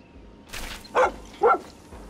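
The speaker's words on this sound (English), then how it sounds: "A dog?" A dog in Far Cry 6 gives two sharp barks about half a second apart, moderately close and alone against a quiet background.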